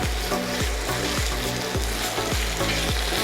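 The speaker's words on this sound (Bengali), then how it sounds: "দিয়ে চিকেনটাকেও একটুখানি কষাবো আমরা এই গ্রেভিটার সাথে" Chicken fries with a green chili masala paste in a loud, close, continuous sizzle, with rhythmic stirring strokes scraping the pan roughly every half second.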